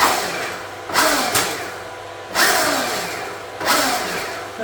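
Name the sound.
Stark Varg electric dirt bike accelerating at 45 horsepower map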